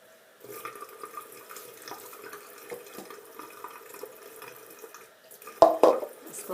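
Tap water runs into a bathroom sink while a mud mask is rinsed off the face, a soft continuous trickle with small splashes, ending in louder close splashing.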